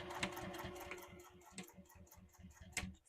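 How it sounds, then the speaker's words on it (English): A sewing machine backstitches through a leather wallet, a steady run of close mechanical ticks and thumps, loud and near, with a brief pause partway before the stitching resumes. "I'm also going to backstitch a few times here"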